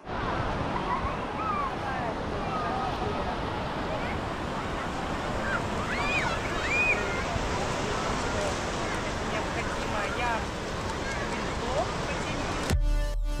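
Sea waves rolling onto a beach in Phuket at sunset, a continuous surf wash with wind buffeting the microphone and faint voices in the background.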